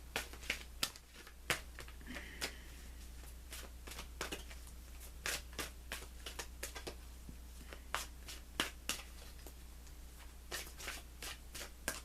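Tarot cards being shuffled by hand give quiet, crisp riffles and sharp flicking snaps that repeat irregularly over a low steady hum, with no talking.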